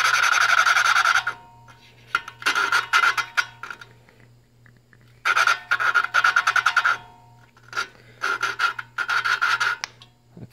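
A small engine valve is lapped against its seat with a suction cup tool, giving harsh rasping grinding strokes in repeated bursts separated by short pauses, fairly loud and close with no talk.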